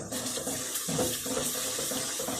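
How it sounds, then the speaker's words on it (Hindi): Water from a tap runs steadily into a pan of spiced yogurt masala for Kashmiri dum aloo, a continuous splashing pour close by with no talking. "थोड़ा सा पानी डालती हूँ।"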